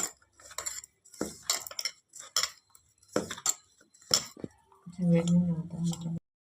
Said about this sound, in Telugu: కొద్దిగా అల్లం పేస్ట్, కొద్దిగా జీలకర్ర ఇవన్నీ వేసి ఇలా కలుపుకోవాలండి.